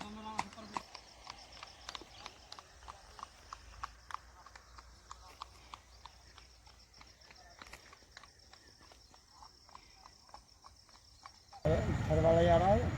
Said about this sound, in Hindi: ये देखो ट्रेनिंग पे है घोड़ा।